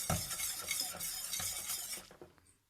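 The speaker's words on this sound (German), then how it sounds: "Es muss gerührt werden, damit das sich nichts ansetzt." A spoon stirs briskly around a pot of milk mixture, scraping and swishing in a steady rhythm close by, then slows and fades to quiet.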